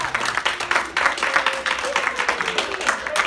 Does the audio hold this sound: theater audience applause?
yes